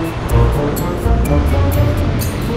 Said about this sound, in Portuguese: E para lá já tá batendo também ondas.